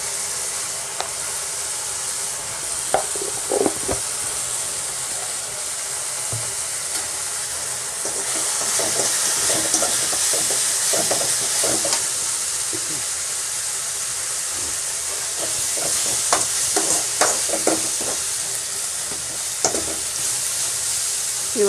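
Chutney seasoning with turmeric sizzles and fries steadily in a pan, with scattered clinks and scrapes of stirring over the continuous hiss, close and fairly loud.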